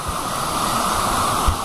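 Rushing water of the Luah waterfall near Gunung Haung Haung in South Kalimantan, a steady, dense roar with nothing else over it.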